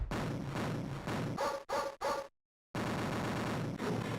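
Dogs barking in the Amiga version of the NARC video game, a run of harsh digitized barks in quick bursts, then a brief silent gap before the game noise resumes, loud and close.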